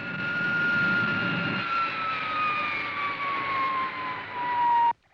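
The Supercar aircraft comes in to land with a high, steady whine that slowly drops in pitch over a low hum, then cuts off abruptly near the end.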